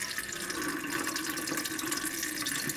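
Water gently poured off settled potato seeds in a curved-bottom bowl makes a steady, close trickling and splashing, continuous and even throughout with no voices.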